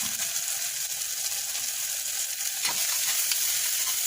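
Chole masala with onions being stirred in a pan, a steady close sizzle with soft scraping strokes throughout.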